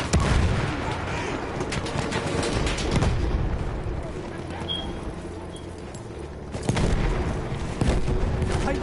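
Battlefield 1 gunfire crackles in dense irregular bursts of rifle and machine-gun shots with heavy distant booms, loud and constant, with players talking over it.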